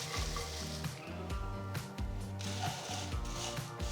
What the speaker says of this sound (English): Now I'm going to just transfer all the roasted ingredients into the pan.